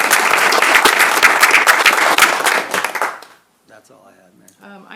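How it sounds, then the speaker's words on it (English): A round of applause fills a city commission meeting, a dense burst of clapping for about three seconds that fades out quickly, followed by quiet murmurs in the room. "let's give him a round of applause."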